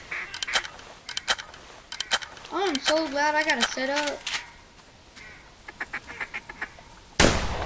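A flock of ducks quacks in a burst of nasal, rising calls during a hunt in theHunter, mixed with nearby hunters talking.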